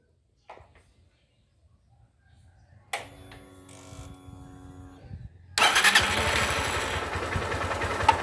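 Honda Fan 160 motorcycle, which misfires when accelerating. A few faint clicks come first, then a brief cranking attempt, and then the engine catches and runs steadily close by, fairly loud.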